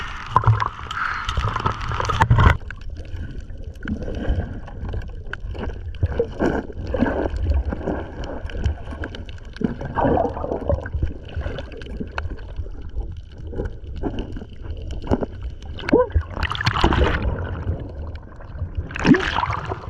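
Rough sea water churning and sloshing around a small fishing boat in choppy waves, a continuous close splashing and gurgling with irregular surges and thumps against the hull.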